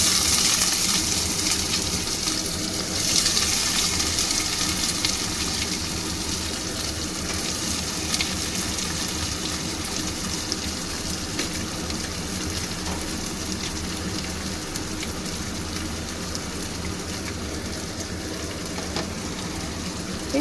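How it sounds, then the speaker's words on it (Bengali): Onions sizzle steadily in hot oil with garam masala in a pan for mutton curry, a close, continuous frying hiss that holds evenly throughout with only faint talking beneath it. "এই পেঁয়াজটা আমি একটু লাল হওয়া পর্যন্ত ভাজবো"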